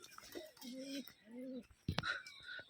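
Soft, low cooing from a pair of Rajshahi giribaj pigeons, two drawn-out rising-falling calls close by, followed by a brief rustle, with a faint voice in the background.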